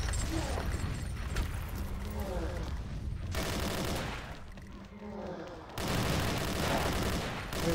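Sustained automatic gunfire in a mummy-themed shooting game, loud and continuous with brief dips between bursts, layered with game music and effects while a voice speaks underneath.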